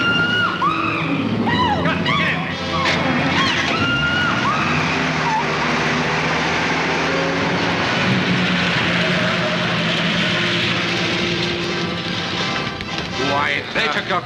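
A stolen car speeds off on a 1940s film-noir soundtrack, its engine roaring and tires whining loudly and close, blended with dramatic orchestral music throughout.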